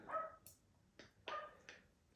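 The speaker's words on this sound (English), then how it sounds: "Sorry about my dog barking outside there" A dog barks outside in a few short, sharp yaps, spaced irregularly and sounding somewhat distant and quiet against a still background.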